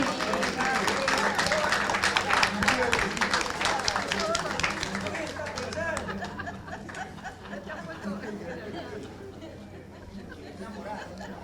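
Applause from an audience at a Lima book fair panel on reporters in danger zones, a dense clatter of clapping that fades from loud to softer over several seconds, mixed with crowd chatter and laughter.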